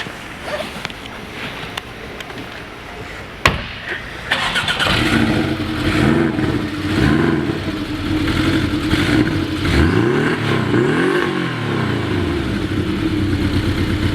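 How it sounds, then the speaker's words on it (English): A Porsche 718 Cayman S is fired up. After a few clicks, the engine cranks and catches with a sharp burst, then settles into a loud, close idle broken by repeated rising and falling revs. "let's take a moment to fire up this little 718 Cayman S. I think you're really going to enjoy the sound of this machine"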